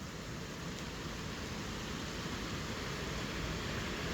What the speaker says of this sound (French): Ouah, mais c'est quoi toute cette pluie?